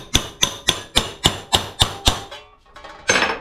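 A hammer strikes sheet metal in a steady run of about nine sharp, loud, ringing blows, then a short pause and a softer scrape, as a rusted car body repair panel is shaped over a radius.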